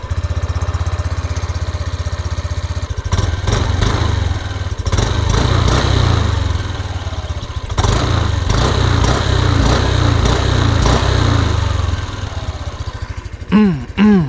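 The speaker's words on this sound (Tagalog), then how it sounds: "Para ito yung raw sound" Raw engine sound of a Yamaha Lexi 155 scooter: a steady low idle hum with repeated throttle blips that rise and fall, close and loud, ending with a few quick revs.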